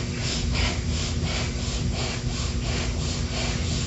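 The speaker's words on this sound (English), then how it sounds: "the breath should be so powerful that you can almost hear that sound, like a tree is getting sawed through" Powerful rhythmic breathing that sounds like wood being sawed, a close, rasping in-and-out stroke repeating steadily for several cycles with no talk.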